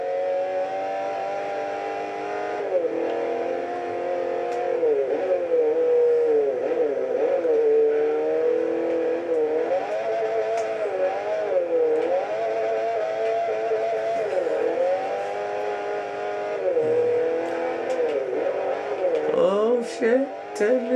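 Car engine from the racing game Forza 4, a Citroen C1 racing a Honda Mugen Civic Type R, droning steadily and loudly throughout, its pitch repeatedly dipping and climbing again as the car shifts and accelerates.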